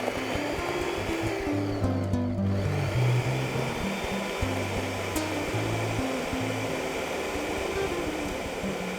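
A countertop blender whirs steadily while blending a smoothie bowl base of bananas and nuts, a loud continuous motor drone with low pitch shifts throughout and no talking.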